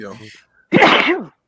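A single loud, close sneeze bursts out right after a brief stretch of talking.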